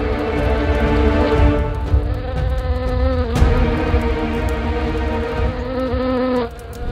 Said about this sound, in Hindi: इन मक्खियों को यहां से भगा दो, ये मुझे भी बहुत परेशान करती हैं।